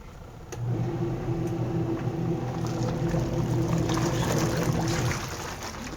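A washing machine, its weak spin just repaired, starts up and spins steadily with a loud droning whir and motor hum, holding even for several seconds before easing slightly.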